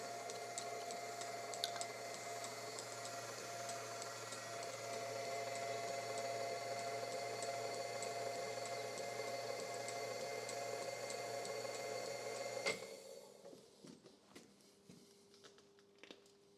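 Lathe tapping a thread into a part during a Fiat Dino restoration, a steady machine whir with faint ticking that runs for about twelve seconds, then stops abruptly and leaves quieter scattered workshop noises.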